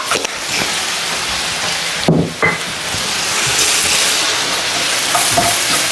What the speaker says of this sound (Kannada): ಲೋ ಫ್ಲೇಮಲ್ಲಿ ಬೇಯಕ್ಕೆ ಬಿಟ್ಬಿಡಿ